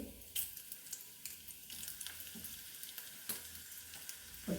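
Chili and curry leaves sizzle in hot oil in a pan, a bright hissing crackle with repeated sharp spits and bursts of spattering, close and loud, no talk.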